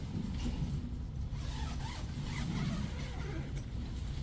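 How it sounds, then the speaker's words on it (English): The zipper on a tent's entrance is pulled open while camping in Antarctica, giving a soft continuous rasp under steady wind and background noise. "So before you go into sleep, there are two zippers to close."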